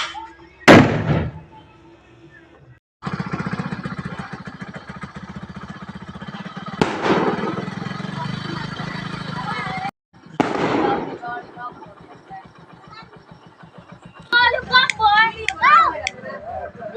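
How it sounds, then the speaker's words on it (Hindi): Diwali firecrackers burst outdoors in a few sharp, loud bangs spaced several seconds apart, with people and children talking and calling out between them. "और अभी हम जाएंगे पटाखा फोड़ने के लिए।"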